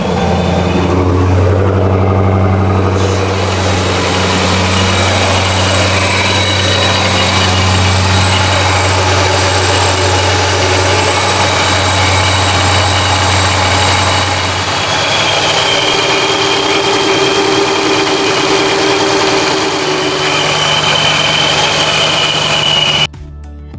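A supercharged car engine fitted with a Procharger idles loud and steady at close range, its low hum shifting slightly in pitch partway through before cutting off abruptly at the end.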